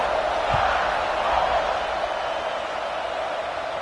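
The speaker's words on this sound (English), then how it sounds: "this crowd is buzzing after that last score" Stadium crowd in the College Football 26 video game buzzing with a steady, dense roar of many voices, continuous and fairly loud, with a brief low thump early on.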